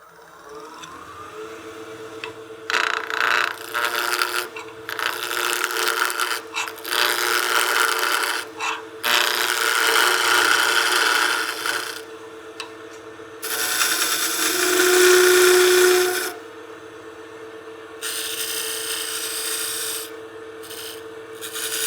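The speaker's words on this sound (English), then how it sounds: "We'll just turn this to round, turn a small tenon to match our chuck jaws." Square maple blank spinning on a woodturning lathe as a gouge cuts it round, giving bursts of rough, rasping scraping separated by short pauses, loud and close with no talk.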